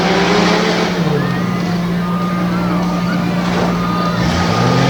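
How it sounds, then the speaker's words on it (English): A 2-wheel drive racing truck at a Renegade MTT event in Greensburg, PA spins its tires off the starting line, a loud, steady engine roar with tire whine that continues throughout. "You can see that 2-wheel drive taking its toll as he spun the tires coming off the starting line."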